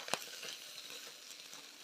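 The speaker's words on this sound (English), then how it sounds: "And give it a good stir in." Minced beef keema with a spice blend frying in a pan, a sharp scrape of the spoon at the start, then a soft, quiet sizzle with light stirring, close by.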